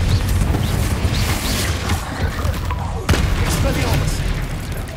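Hogwarts Legacy's Confringo fire-blast spell set off in battle, with loud, booming bursts and crashes in a dense, rumbling clash of combat noise, one sharp impact standing out midway.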